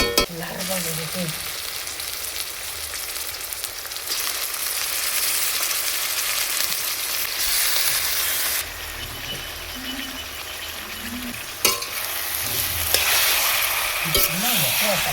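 Sliced onions sizzle steadily in hot oil in a pan while a spoon stirs and scrapes them now and then, the frying loud and close with a brief clank partway through.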